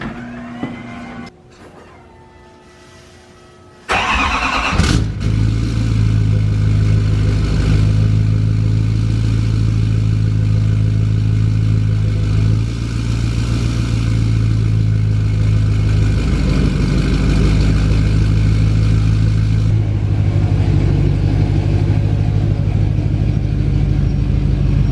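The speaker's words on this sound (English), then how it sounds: "Let's get a little cold start and we'll back this thing out." A vehicle with an idling problem cold-starts after a quiet moment: a quick crank catches, then the engine settles into a loud, steady rumbling idle that carries on without any talk.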